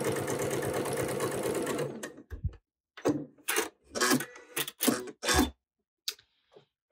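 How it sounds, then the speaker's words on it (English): A sewing machine stitches quilt fabric in a loud, fast, steady run for about two seconds, then stops, leaving a few short knocks and rustles of handling. "I start sewing."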